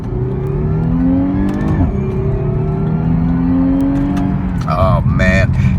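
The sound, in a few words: 2014 Porsche Panamera S accelerating hard after downshifting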